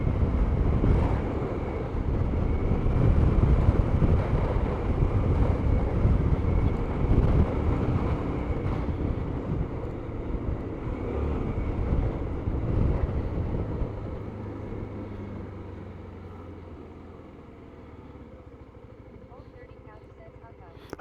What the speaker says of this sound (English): I can see if the wind is going to be problematic on the helmet